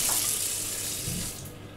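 Hot water gushes steadily from a tap into a sink in an apartment kitchen, a close, continuous hiss that eases slightly near the end.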